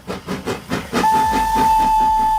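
Thomas the train, a fictional steam engine, chugs in rhythmic puffs and then lets out a loud, steady steam whistle that holds for over a second over hissing steam.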